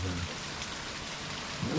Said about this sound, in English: it's just raining so hard